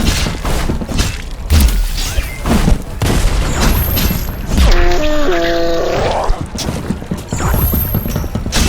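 A grenade explodes in the action video game Loopmancer, a booming blast set within dense, loud combat audio with mechanical clanks and other game effects running throughout.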